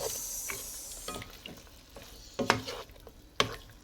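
Beef liver being stirred with calamansi juice in a hot pan, a soft sizzle underneath scattered scraping strokes of the utensil, with sharper clacks near the end.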